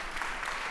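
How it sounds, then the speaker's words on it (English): Applause from a conference audience at a startup stage event, a steady dense clatter of many hands clapping at moderate volume, filling the whole short moment without any voices on top. "Your applause."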